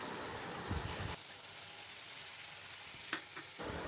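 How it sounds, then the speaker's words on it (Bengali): Chicken pieces fry in a pan with onion and garlic-ginger paste, a soft, steady sizzle with occasional scraping as the mixture is stirred, quiet and close. "চিকেন কিছুক্ষণ পেঁয়াজের সাথে ভেজে নেব।"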